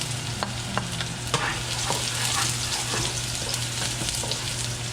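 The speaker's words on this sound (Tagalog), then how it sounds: "Ngayon naman, mag-gisa na tayo. Lagyan na natin yung ating bawang." Garlic being sautéed in a pan for grouper pocherong, a continuous close sizzle and crackle with scattered stirring clicks and scrapes.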